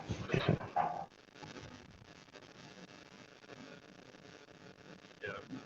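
A dog gives a couple of loud barks up close at the start, then faint yips under a person talking.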